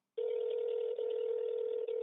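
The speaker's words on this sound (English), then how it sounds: "Oh, all right. We're calling Rob." A telephone line rings while calling someone, a steady electronic tone that sounds alone and holds almost without a break after a brief silence.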